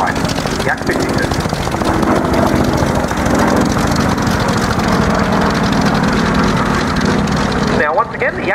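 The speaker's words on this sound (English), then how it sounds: "All radial engines have a very special kind of noise to it." A Yak-52 aircraft's radial engine runs loud and steady at an air show, a dense rumbling roar that holds for several seconds before cutting back near the end, with a voice talking over it.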